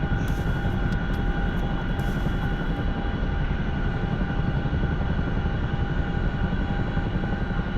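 Steady, loud rotor and turbine drone of a Chinook helicopter in a flight video game, continuous and close throughout, with a few faint higher clicks early on.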